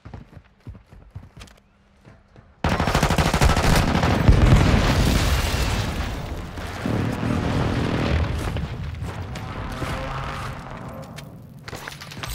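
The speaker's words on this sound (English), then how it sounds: "Friendly airstrike on the way." Friendly airstrike in a shooter video game: a long, loud roar of overlapping explosions and rumbling blasts, mixed with rapid gunfire, suddenly starting after a few quiet clicks and persisting with dense, continuous energy.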